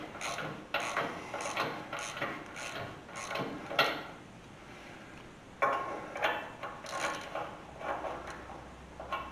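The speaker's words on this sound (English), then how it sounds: "use the ratchet now to pull the spring the rest of the way up" Ratchet wrench cranking in bursts of quick metallic clicks to draw a coil spring up on a 1973-87 Chevy C10 squarebody 2WD truck, fairly quiet with short pauses between strokes.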